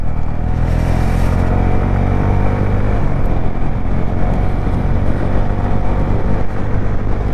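A Honda CB 125 Hornet motorcycle rides over a broken, rough road, its engine droning steadily and loudly up close with a constant low rumble and no voices.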